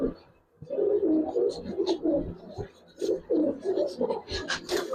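Giribaz pigeons coo repeatedly in soft, throaty bursts close by, the rolling calls rising and falling over a few seconds with faint rustling between them.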